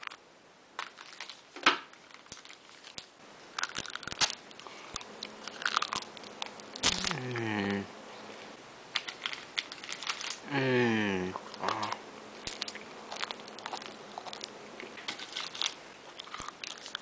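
Candy being crunched and chewed close up, with sharp bites and crackly crunches, bursts of rustling wrapper, and a voice briefly humming between bites.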